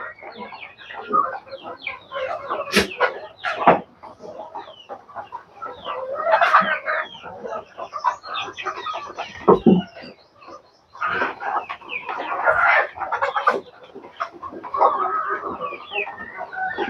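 A flock of chickens eating feed at a long feeder, busy overlapping clucks and squawks close by with an occasional louder call, continuous throughout.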